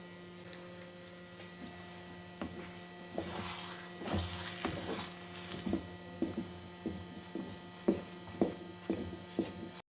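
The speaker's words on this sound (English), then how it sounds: "keep stirring and roasting pudding on high flame until the oil comes to surface" A spoon stirs semolina pudding with nuts in a pan as it roasts over a high flame, giving soft, repeated scraping and squishing strokes in an uneven rhythm over a steady low hum, close and fairly quiet.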